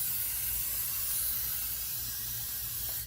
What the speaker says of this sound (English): I'm gonna spray the pad here with some brake clean.